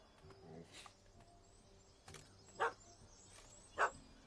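A small puppy barks in The Witcher 3 at a cat that has fled up a tree, giving a few sharp, separate yaps at moderate distance over quiet ambient game sound.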